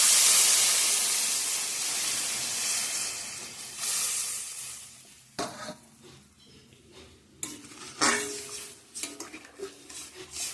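Water poured into hot fried spice masala in a pan hisses with a loud burst of steam at first, fading into softer sizzling broken by a few sharp clinks of a ladle against the pot.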